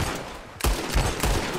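Gunfire in the Red Dead Online video game: a few sharp, distinct shots spaced roughly half a second apart, moderately loud over a steady background of game ambience, with no talking.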